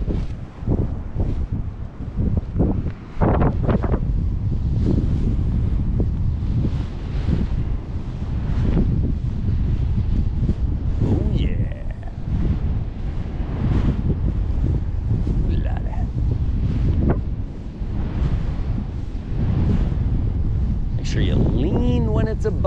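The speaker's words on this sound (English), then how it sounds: "This is really tough conditions. It's trashy offshore wind." Strong, gusty offshore wind roars and buffets the microphone continuously during kite training, with surf noise underneath and occasional voices breaking through.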